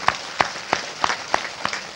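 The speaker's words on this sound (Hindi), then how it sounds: "जोरदार तालियां इसके लिए" At an outdoor yoga initiation gathering, a few loud, evenly spaced claps ring out, about six sharp hits in two seconds.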